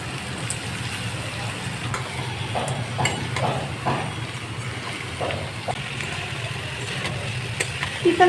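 Bitter gourd with chillies and onion fries in hot oil, giving a low, uneven sizzle with soft stirring knocks under a background hum, while a voice talks quietly.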